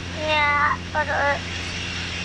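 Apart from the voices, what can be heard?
Grumman Tiger light aircraft engine in flight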